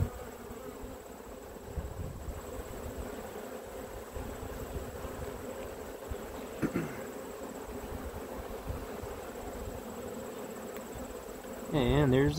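Honey bees swarm over wooden hive frames with older drawn comb, making a steady, dense buzzing hum throughout that swells briefly near the end.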